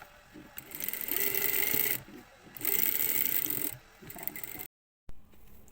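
Sewing machine stitching buttonholes in cloth, running in two loud sustained bursts with short pauses between, then a brief stop and a quieter restart.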